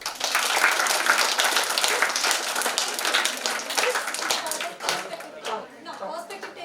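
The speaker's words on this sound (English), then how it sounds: "Give a clap" An audience claps together through a talk on suicide prevention, a dense, sustained round of applause that swells and then slowly thins toward the end, with a few voices underneath.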